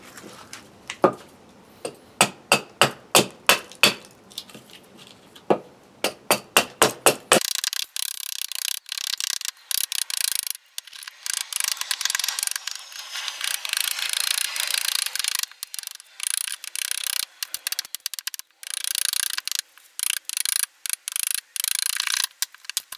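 A wooden spoontula blank is roughed out with a carving tool, first as a series of sharp, evenly spaced cuts, then as long continuous rasping strokes, all close up without talk.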